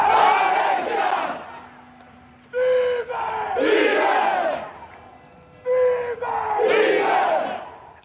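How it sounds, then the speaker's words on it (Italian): Palermo football fans chant in unison as they accompany a young girl's funeral, two loud rhythmic crowd phrases rising and falling, separated by a brief lull with a sustained tone. "Alessia vive, è il coro dei tifosi del Palermo che hanno accompagnato la piccola verso il suo ultimo viaggio"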